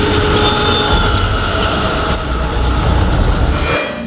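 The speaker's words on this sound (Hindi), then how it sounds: "Metro rail." A metro rail train runs steadily, a loud, continuous rumbling roar with a rushing whine and faint rail noise, close and unbroken, briefly dipping near the end.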